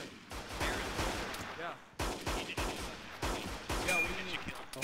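Gunfire in the video game Arma 3, in a D-Day battle against German troops: repeated sharp shots and bursts at close to middle distance, with voices heard faintly in the mix.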